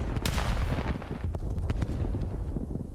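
Gunfire in a Call of Duty match at a league qualifier, several sharp shots and bursts cracking over a rumbling, windy background.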